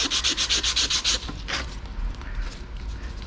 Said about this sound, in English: I'm gonna sand down both sides of the pipe